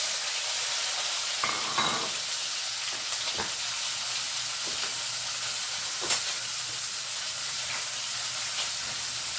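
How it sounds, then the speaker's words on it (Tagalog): Tomatoes sauté in a pan with a steady, close sizzle, broken by a few light clatters of a utensil against the pan. "Igisa natin ang tamatis kasi masarap to."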